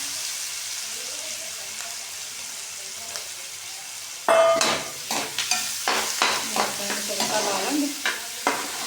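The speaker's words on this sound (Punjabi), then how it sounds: "ਪਿਆਜ਼ ਵੀ ਚੰਗੀ ਤਰ੍ਹਾਂ ਭੁੰਨ ਲਾਂਗੇ" Onions fry in hot oil in a kadhai, a quiet steady sizzle that turns louder and busier midway, with repeated stirring scrapes and clatters over the crackle.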